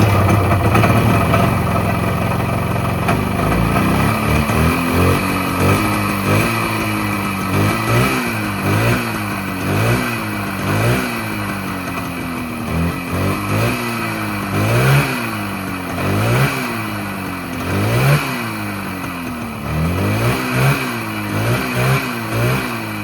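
A 1972 Polaris Colt 340SS snowmobile engine runs loudly and close, revving up and down again and again in rough repeated pulls with no voices.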